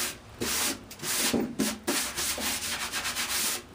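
Rough, rhythmic scraping of sandpaper stripping paint from a thin sheet-metal car panel, close and steady strokes in uneven bursts with no talking.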